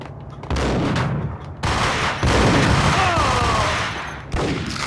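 Gunfire in Max Payne crackles as dense, overlapping bursts of rapid shots that continue for several seconds, loud and close, with no one speaking.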